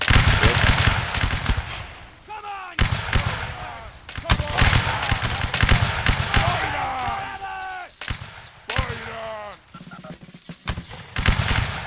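Musket volleys crash out repeatedly in a Napoleonic Wars line battle game, loud dense bursts of gunfire in waves with brief gaps, while voices shout orders and call out over the firing.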